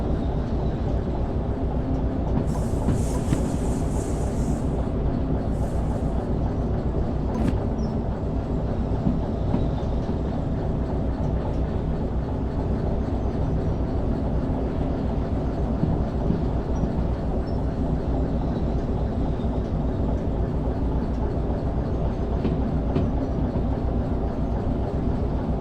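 Train running in the VR railway game Derail Valley, a steady rolling rumble with faint rail clatter that continues unbroken throughout, with no voices.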